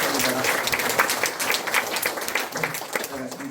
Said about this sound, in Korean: 장로님, 권사님들 한번 힘차게 박수 한번 드리겠습니다